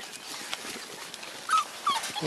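Puppies whimper in a cage, with soft scuffling and then two brief, high, clear whines near the end.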